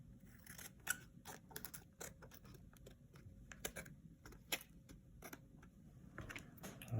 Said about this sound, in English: I'm going to trim the excess off the edge.